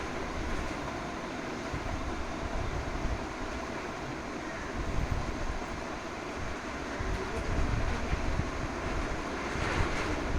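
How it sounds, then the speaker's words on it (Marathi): Heavy rain and strong wind heard from indoors with the windows shut, a steady dense roar and hiss filling the whole stretch, with gusts swelling louder near the end and no voices. "खिडक्या वगैरे सगळं बंद आहे, तरीसुद्धा पावसाचा आवाज खूप येत आहे. वारा आणि पाऊस दोन्ही जोरात चालू आहेत."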